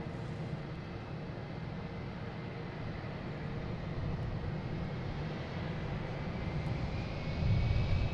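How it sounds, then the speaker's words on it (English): A JetBlue airliner arriving from Orlando at Boston Logan makes a steady, distant jet rumble that grows gradually louder toward the end, with no talking. "JetBlue coming in from Orlando, Flight"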